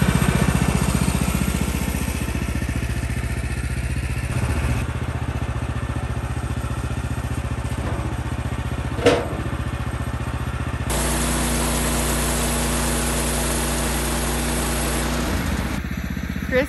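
A Woodland HM126 sawmill's small engine runs steadily at a high-pitched drone while the blade cuts through wood, with a louder, denser buzz in the later seconds and a brief clack near the middle.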